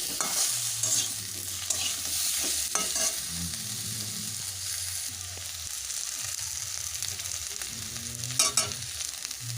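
Bata fish curry with potato, papaya and raw banana being stirred in a pan with turmeric and salt: a steady, close simmering sizzle with bursts of spatula scraping and stirring.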